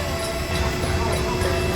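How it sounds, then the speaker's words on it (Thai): Steady rumbling ambience inside Bangkok railway station, with a broad continuous low hum and diffuse rail-yard noise, no distinct voices standing out. "อันนี้ก็คือสถานีรถไฟกรุงเทพ"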